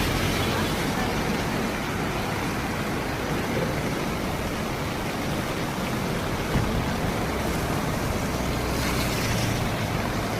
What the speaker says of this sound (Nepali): अब हनुमन्ते खोलाको अब विकराल रूप आउँदैछ, सबैले हेर्नु होला।